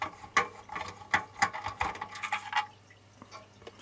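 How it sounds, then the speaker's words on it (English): An ordinary hand screwdriver turns screws inside an opened Sky Plus satellite box, giving close, irregular clicks and scrapes of metal on metal, with a quieter stretch near the end. "I need to use an ordinary screwdriver"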